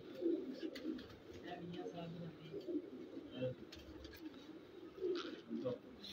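Pigeons coo in low, repeated murmuring phrases at a pigeon fancier's loft, with people talking over them throughout.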